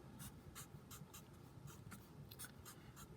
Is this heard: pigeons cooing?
no